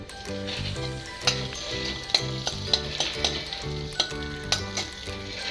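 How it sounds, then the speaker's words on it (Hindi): Ginger sizzling in hot ghee in a kadai while being stirred, a steady close crackling fry with light spoon scrapes and clinks over a low, busy texture. "अब मैं इसमें थोड़ा सा अदरक डाल दूँगी"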